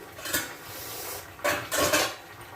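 Pepper chicken being stirred in a pan, with a few scraping clinks of a metal spoon against the pan in short bursts, close and moderately loud, with no talking.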